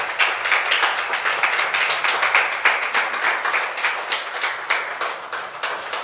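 A church congregation claps in a loud, fast, steady burst of applause that runs the whole time with no voices over it.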